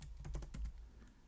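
A few quick keystrokes on a computer keyboard, faint and close, a short burst of clicks that trails off.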